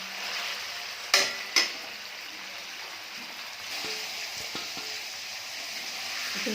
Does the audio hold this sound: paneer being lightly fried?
yes